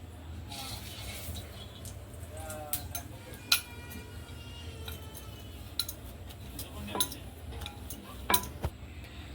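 Puris rolled out one by one with a rolling pin for a tricolour puri recipe, giving quiet, irregular taps and light clinks on the board against a low room hum, with a few sharper knocks.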